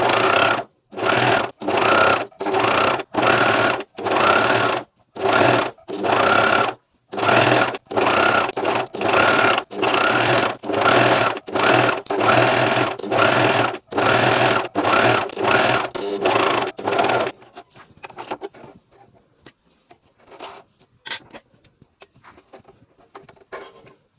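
A coverstitch machine hems a t-shirt in about seventeen seconds of rapid bursts separated by brief pauses, loud and close, then stops and gives way to quiet handling sounds.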